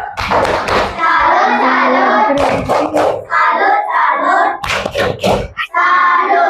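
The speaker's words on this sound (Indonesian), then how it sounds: "Tepuk salut." Children in a classroom perform a rhythmic group salute clap, loud patterned bursts of hand claps and thumps with shouted voices mixed in, close and energetic.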